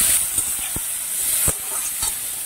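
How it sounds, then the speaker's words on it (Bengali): Boiled yam pieces hitting hot oil that was just used for frying fritters, giving a steady sizzling hiss with a few brief louder spatters. "এইবারে ওই তেলেই আমি যে ওলটা সেদ্ধ করে নিয়েছিলাম ওই ওলটাকে একটু ভেজে নেব"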